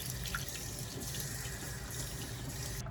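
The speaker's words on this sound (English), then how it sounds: "we're gonna rinse off the salt" Tap water runs steadily into a sink as salt is rinsed off salmon fillets, a continuous close splashing stream with no talk.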